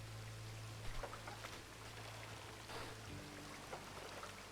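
Rain in the video game RedM, a soft, continuous patter with faint scattered drips and a low hum under it, steady and with no voices.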